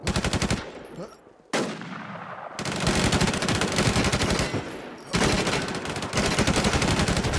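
Rapid machine-gun bursts in an online shooter game, loud and close, firing in sustained volleys with brief pauses between them.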